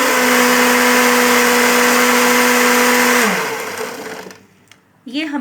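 A blender grinding spinach whirs loudly and steadily for about three seconds, then winds down and stops, followed by a short voice.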